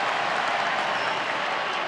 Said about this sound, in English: He's going to get a nice round of applause.